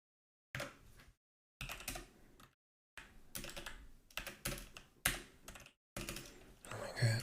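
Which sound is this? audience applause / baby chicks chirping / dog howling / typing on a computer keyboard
typing on a computer keyboard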